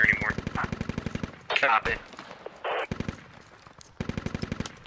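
Rapid automatic gunfire from the Squad Galactic Contention Star Wars mod, with clone troopers fighting on Tatooine: loud, fast, evenly spaced bursts open the clip, then scattered shots and impacts, then another sustained burst near the end. A voice speaks briefly.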